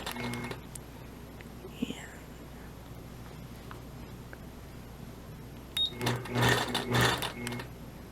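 A sewing machine stitches an applique, running in a brief rapid burst near the start, then falling quiet before whirring again in short stuttering runs near the end.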